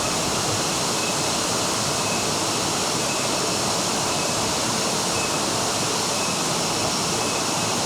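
Steady, dense roar of rushing water from a waterfall in Bali, pouring continuously without pause.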